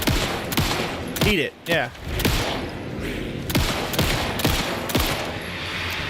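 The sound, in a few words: shooting at Mr. Scratch in a video game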